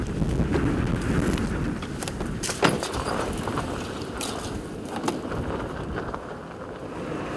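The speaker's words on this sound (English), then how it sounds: "Oh, that wind is beating me up today." Strong outdoor wind buffeting a microphone during a mule deer archery hunt, a loud, continuous rumbling roar with gusty swells and a few faint knocks, no voices.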